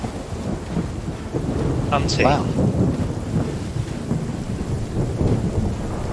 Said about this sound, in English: Don't forget though, it is raining